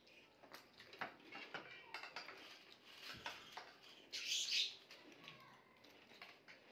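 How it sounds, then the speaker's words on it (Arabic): Bright, brief sparrow chirps cluster over a steady background with people talking nearby; a short burst of twittering stands out midway. "العصافير بتحيي."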